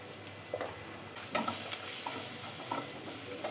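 Onions with crushed chilli and chilli powder stir-fried in a pan, a soft steady sizzle broken by several light scraping stirs, fairly quiet.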